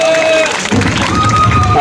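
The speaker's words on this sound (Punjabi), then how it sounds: "ਸੋ ਇੱਕ ਵਾਰ ਤਾੜੀ ਲਾ ਦਿਓ ਜੀ ਜ਼ੋਰਦਾਰ" Loud, steady applause and cheering from a crowd at a Punjabi political gathering in Bhadson, where former councillors are welcomed into the Aam Aadmi Party, sustained throughout with a voice briefly audible at the start.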